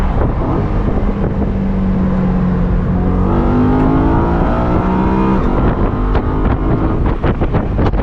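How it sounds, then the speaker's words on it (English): A 2011 BMW E93 M3 engine roars loudly and close from the front of the car at a burnout pad, a steady sustained growl with rising harmonic tones as it revs, mixed with wind noise and no talking. "It's so nice how you can hear the engine just roar from the front here."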